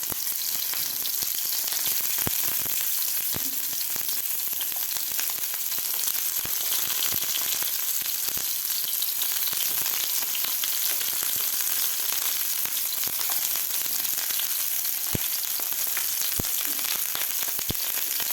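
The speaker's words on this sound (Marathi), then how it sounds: "आता यामध्ये आपल्याला हे शिमला मिरचीचे गोल काप करून घेतलेले घालायचे आहेत." Rings of capsicum fry in about a spoonful of oil in a pan over medium heat, a steady close hiss of sizzling dotted with sharp little pops and crackles throughout.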